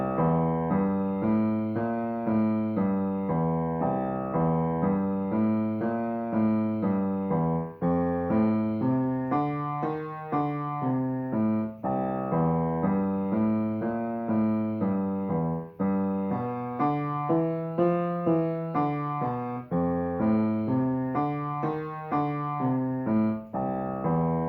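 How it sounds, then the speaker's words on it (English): Boogie woogie bass line played on piano: a driving, repeated low figure in steady rhythm that shifts pitch as the harmony changes, with chords above it, loud and continuous with no talk. "And finally, we have Boogie Woogie bass."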